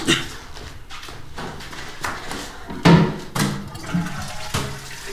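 A household bathroom toilet flushing: a rushing, gurgling wash of water at close range with a few louder surges and clunks as the tank drains.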